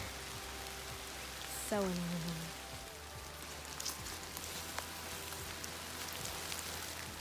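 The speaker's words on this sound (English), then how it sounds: "And of course it starts raining when I put the umbrella back." Rain begins falling outdoors on a wet day, a steady soft patter spread across the scene with a sudden whine near the start, and a person briefly speaks over it.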